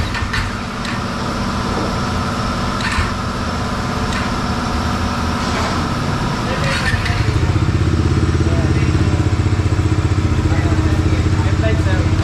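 A Bajaj Dominar 400 UG V2 motorcycle is started. After a stretch of quieter background noise with voices nearby, the engine catches about midway and settles into a loud, steady, throbbing idle up close.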